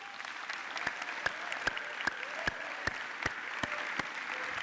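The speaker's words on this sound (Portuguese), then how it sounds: "dá um aplauso à palavra de Deus" A church congregation claps together in a steady rhythm, with loud, evenly spaced collective beats over a dense bed of scattered hand claps in a reverberant hall.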